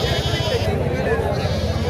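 Goats bleat loudly and repeatedly at a crowded weekly village market in Nereduvalasa, their wavering cries overlapping amid a steady murmur of people talking nearby.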